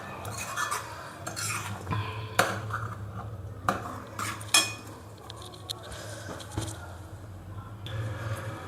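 A spoon stirs cooked dal with fresh coriander in a metal pot, hotel-style dal tadka. Soft scraping and clinks on the pot come in an uneven rhythm, with a few sharper taps standing out, close and fairly quiet.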